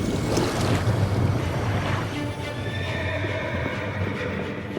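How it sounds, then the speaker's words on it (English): A horse galloping and whinnying toward a castle gate in a dramatized legend, a loud, dense rush of hoofbeats mixed with a neigh and a surging, wave-like background wash, with no one speaking. "Lancelot rode towards the castle gate."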